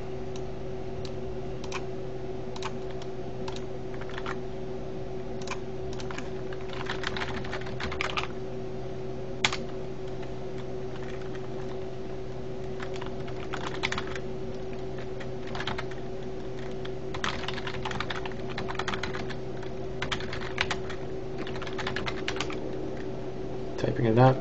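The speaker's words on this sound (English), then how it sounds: "Typing it out to them." Steady typing on a computer keyboard, close and fairly quiet, with uneven bursts of key clicks over a constant low background hum.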